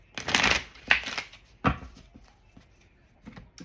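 Tarot cards shuffled close by in a few quick bursts of papery riffling and slapping, loudest at the start, then softer scattered shuffles and taps fading toward the end, with no speech over them.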